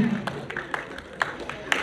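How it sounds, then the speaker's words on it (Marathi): A crowd claps for prize winners at a dog show fancy dress competition in Latur. The scattered applause is moderately distant and irregular, and it sits under a louder announcer's voice over a public address system. "टाळ्या वाजून स्वागत करायचे आपण सर्वांनी"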